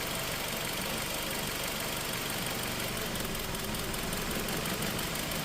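A Nissan X-Trail engine with a cylinder misfire idles during a cylinder balance test, a steady, even rumble with a faint rhythmic pulse, heard close and at moderate level without talk.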